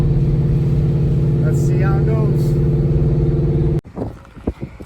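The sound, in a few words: car driving on the road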